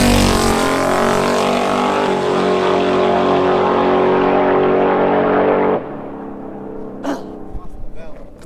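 A 6th Gen Camaro drag car makes a 1/8 mile pass, a loud sustained engine roar rising in pitch that cuts off abruptly as the driver lifts, followed by quieter rumbling and faint distant noise.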